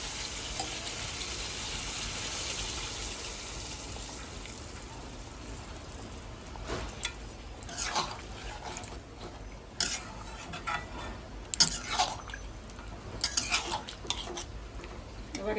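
Hot water goes into a pan of sizzling Bengali-style chicken curry, making a soft steady hiss and sizzle with scattered spoon clinks and stirring scrapes that grow busier toward the end, all fairly quiet.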